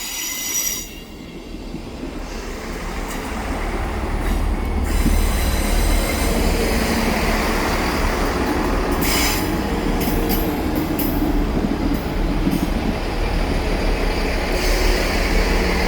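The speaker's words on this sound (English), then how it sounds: "now arriving in is going to be the 1702 Northern service to Carlisle from Leeds" Northern Class 158 train arriving at Shipley station, wheels squealing loudly and steadily with faint clickety-clack as it rolls in close by, building after a quieter start.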